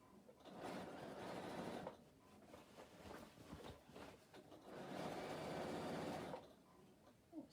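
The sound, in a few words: sewing machine running but not stitching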